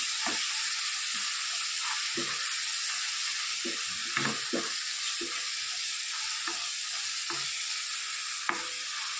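Chopped onions with turmeric, asafoetida, garam masala, green chillies, red chilli powder and coriander-cumin powder frying in a pan, a continuous close hiss and sizzle with scattered scrapes of a stirring spoon.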